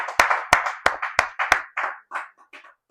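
A small church audience claps together, about five sharp synchronized claps in a steady rhythm that loosen into scattered, fading applause, close and clear with no talking.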